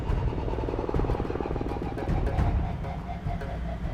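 A military helicopter making a fast, low-level pass over a landing zone, its rotor chop and engine roar loud and steady throughout, swelling slightly as it passes close overhead.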